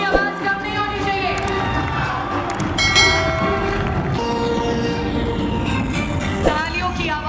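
A large crowd cheers and shouts at a company gathering welcoming its CEO and managing director, a dense, continuous roar of voices with whistles and shrieks, steady and loud throughout, with clapping blended into the din.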